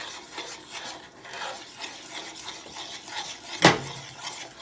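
Homemade play-dough being stirred in a heated pot, soft continuous scraping and rubbing of a spoon through the thick dough, with one sharper knock against the pot near the end.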